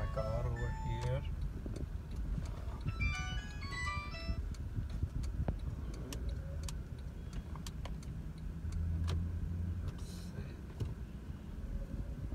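A car being parked outside a McDonald's drive-through, steady engine and road rumble running close throughout with a voice speaking over it and brief chime-like tones near the start.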